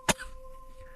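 A single sharp cough bursts out near the start, close and loud, followed by a quiet room with a faint steady hum.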